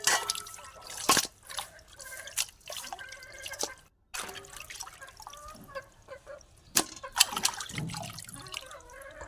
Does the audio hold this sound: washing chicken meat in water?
yes